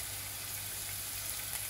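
Chicken pieces for fesenjan sautéing in a pan with salt and black pepper, giving a steady, even sizzle and crackle throughout, close and continuous with no talk.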